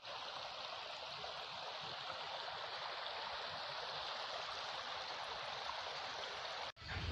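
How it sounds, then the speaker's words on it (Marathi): A year-round stream flows beneath the hillside Marleshwar temple, giving a continuous, even rush of water that holds steady throughout and cuts off briefly just before the end. "देवळाच्या ह्या खाली इकडे पाणी वगैरे आहे तुम्ही जर बघितलं तर हे पाणी वर्षाचे बाराही सुद्धा वाहत असलं"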